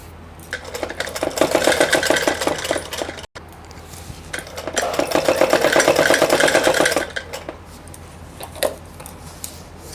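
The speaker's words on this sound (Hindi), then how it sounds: "यहाँ पर सिलाई बिल्कुल मिला के लगानी है।" Sewing machine stitching buckram and fabric together for a four-panel salwar, running in two steady rhythmic bursts of fast stitching with a brief pause between, close and fairly loud with no talking.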